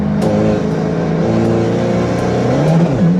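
A car with its stock turbo accelerates hard, the engine note climbing in pitch loud and close, with rising harmonics through the short burst.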